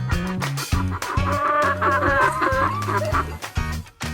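Chickens cluck and chatter up close, overlapping bursts and short calls in an irregular run of fowl sounds.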